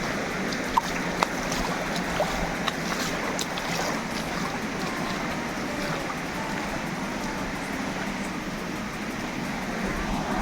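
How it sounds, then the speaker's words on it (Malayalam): A strongly flowing stream at Rosemala in Kerala rushes in a steady, unbroken wash of water noise, fairly close and even in loudness, with a few faint clicks on top. "ഇവിടെ നല്ല കുത്തൊഴുകുണ്ട് വെള്ളത്തിൽ."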